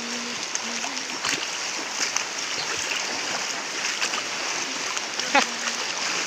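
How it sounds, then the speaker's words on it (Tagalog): Water splashes steadily as someone wades across a knee-deep river, a constant broad rush with occasional sharper splashes, and brief voices rise faintly over it. "Tatawid na naman ng elog si Caberde"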